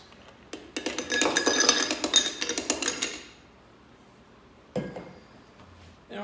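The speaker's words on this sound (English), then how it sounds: "We'll go ahead, we'll get our highball glass up here." A highball glass and other glassware clink and rattle on a bar counter while a Dark and Stormy cocktail is being prepared, a close burst of bright clattering followed by one more knock.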